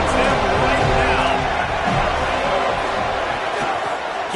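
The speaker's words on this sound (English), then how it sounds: "This crowd knows this defense needs them right now" Stadium crowd roar in a college football video game, Florida State hosting Miami, a steady dense wash of cheering and babble that stays loud and even throughout, with an announcer's voice talking over it.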